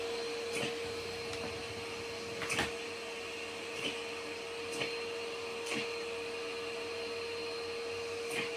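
A Hoover vacuum cleaner runs with a steady, fairly quiet motor whine and a constant tone, broken by periodic soft clicks and knocks as it works.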